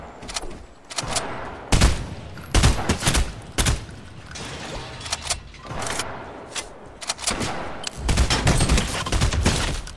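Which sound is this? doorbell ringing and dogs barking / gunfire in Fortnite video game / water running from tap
gunfire in Fortnite video game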